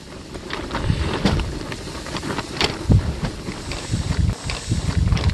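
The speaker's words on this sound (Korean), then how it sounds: "참 바람 심합니다" Strong wind at a fishing spot on the Yangjang-ri waterway in Yeongam, buffeting the microphone in uneven gusts as a rough, low rumble that rises and falls throughout.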